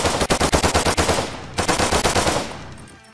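Machine gun fire from an offline Android shooter game comes in two rapid volleys of sharp, evenly spaced shots, loud and close, separated by a brief pause before trailing off.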